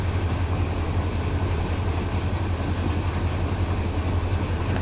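A train starts up in Run8 Train Simulator, a steady, loud, low engine rumble that stays constant throughout with no speech.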